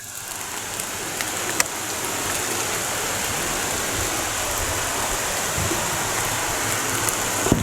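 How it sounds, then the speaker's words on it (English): River rapids rushing through a rocky canyon, a steady broadband roar of churning water that holds an even level throughout with no pauses. "and then some more rapids down here"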